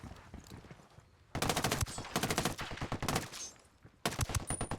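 Gunfire in several rapid bursts, loud and sharp repeated shots separated by brief quieter gaps, with faint background sounds between volleys.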